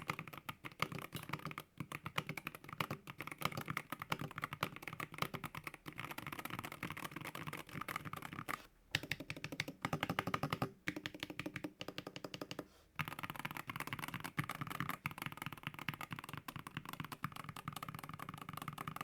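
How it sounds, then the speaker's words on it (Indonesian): Keystrokes on an IQUNIX EZ60 magnetic keyboard with aluminum case and plate, a steady run of close, rapid taps with a few brief pauses and no talking. "kalian denger aja typing sound test-nya berikut ini"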